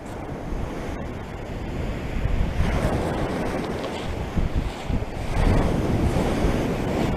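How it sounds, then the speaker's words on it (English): Waves break and wash over the shingle shore at Shingle Street on a quiet stretch of the Suffolk coast. The steady, rushing surf swells at intervals, with gusts of wind buffeting the microphone throughout. "I'm now at Shingle Street, located on a quiet stretch of the Suffolk coastline"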